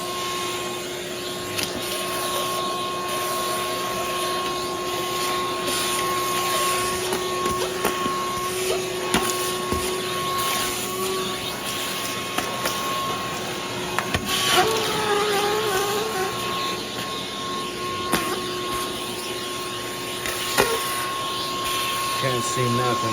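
A 6-gallon Shop-Vac sucks sand out of a rug with a steady, loud motor whine, broken by scraping and rattling bursts as grit is pulled through the nozzle, close up for the whole stretch.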